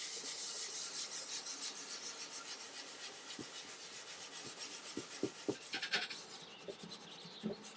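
Excess hard wax oil is wiped off a wood vanity, a soft repetitive rubbing and scraping with a steady back-and-forth rhythm, close and fairly quiet, with a few small knocks near the end.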